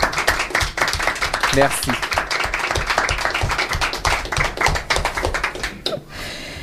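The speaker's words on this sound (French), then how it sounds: "on peut l'applaudir bien fort" Audience clapping at a live music interview event, a dense sustained burst of applause lasting several seconds before fading, with a brief spoken thank-you over it.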